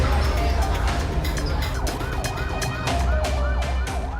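Ambulance and police car sirens wail continuously with repeating rising-and-falling sweeps over rumbling road traffic, fairly close and loud, as vehicles carry students to medical treatment during a mass food poisoning outbreak in Indonesia.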